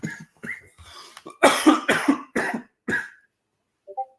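Several sharp, close coughs in a rapid cluster, with a few smaller hacking coughs before them and a brief throat noise at the end.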